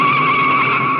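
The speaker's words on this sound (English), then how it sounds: "2 cars spin." Race cars skidding and spinning on the track at the 1957 US Grand Prix, a loud, close, sustained tire screech that lasts about a second.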